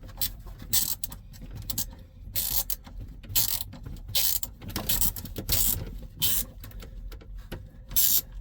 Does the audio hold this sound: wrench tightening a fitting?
yes